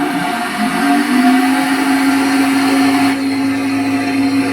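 An electric jar test stirrer runs at about 60 rpm, mixing alum into wastewater, a loud steady motor whine holding one pitch throughout with no talk.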